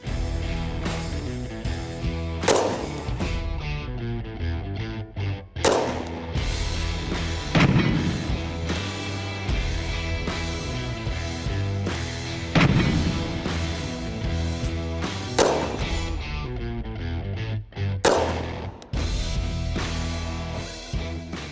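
A Ruger Mini-14 rifle is fired outdoors in about six sharp, widely spaced shots, each a loud crack that rings out over steady background music.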